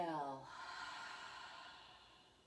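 A single soft yoga exhale, breathy and close, following a brief voiced tail and fading out gradually.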